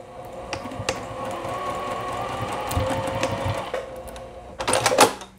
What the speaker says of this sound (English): we're going to just sew the ends of this first so that it stays put, using about a 1/4-inch seam allowance again